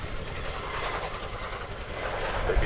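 Broad, steady rumble and rotor wash from an RAF Chinook helicopter flying a demonstration at the Cosford Airshow, loud and continuous throughout with no voices.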